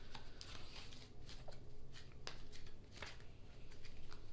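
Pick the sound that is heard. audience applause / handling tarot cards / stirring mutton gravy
handling tarot cards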